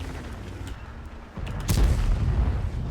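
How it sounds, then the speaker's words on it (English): Artillery shell impacts in the World of Tanks video game, heard as a sudden deep boom at about 1.7 seconds that rumbles on loudly above a steady low engine drone. "We miss. Artillery doesn't."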